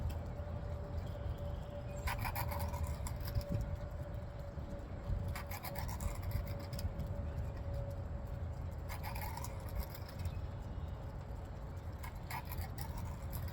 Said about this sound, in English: I just kind of wanted to see what it'd be like starting with the coarse instead of starting with the fine